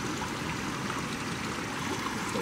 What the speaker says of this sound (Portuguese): Tá zoado do riacho, olha lá.